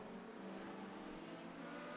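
Sports cars run at VIR in a sim racing championship, a faint, steady engine drone with a continuous tonal whine and no distinct pass-by peak.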